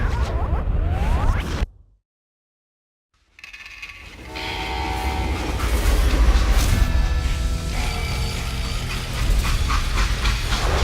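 Freight train running in the Western shooter Call of Juarez: Gunslinger, a steady loud rumble of wheels and rolling cars with mechanical clatter, broken by a brief silent gap before the noise resumes and builds.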